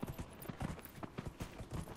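A horse gallops in Dragon Age Inquisition, its hooves drumming a quick, steady clip-clop rhythm, fairly close and moderately quiet, with no other sounds.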